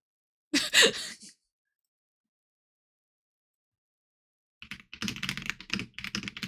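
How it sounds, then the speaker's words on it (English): Computer keyboard typing during a gaming stream, a short burst of clicky keystrokes near the start, then quiet before a denser run of rapid key taps. "You can hear me typing too."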